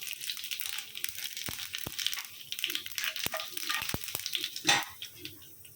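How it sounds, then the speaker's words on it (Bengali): Nigella and cumin seeds sizzle in hot mustard oil as a tempering for a thin koi fish curry, a faint steady frying hiss broken by occasional sharp crackles and pops. "আর এই যে কালো চিরা নিয়েছি হাফ চা চামচ আর সাদা চিরা হাফ চা চামচের একটু কম ফোড়নে দিচ্ছি"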